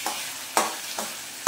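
Spices and chickpeas frying for a potato-and-chickpea curry, stirred in a pan: steady sizzle broken by three sharp scraping strokes of the spoon, close and fairly quiet, no voices.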